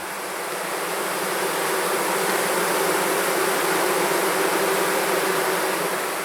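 Honeybees in a queenless hive hum in a dense, steady drone that stays loud and close for the whole stretch, with no voices over it.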